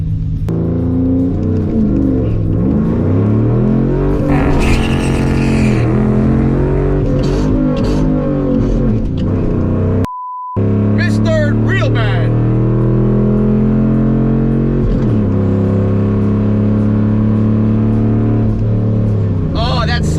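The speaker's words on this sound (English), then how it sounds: "easy little burnout" A car does a burnout, its engine revving hard and climbing through the gears with a sustained roar and brief lift, while people talk over it.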